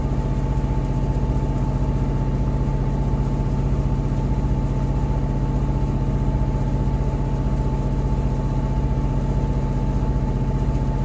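An older Westerbeke W13 4.4 kW diesel generator runs loud and close, a constant, even low drone with a rapid steady pulse and no pauses.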